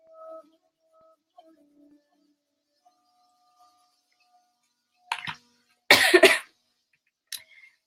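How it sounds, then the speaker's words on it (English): A few short, sharp coughs break an otherwise quiet room, one a little louder than the others, with a final small cough after a pause. "I apologize for my cough"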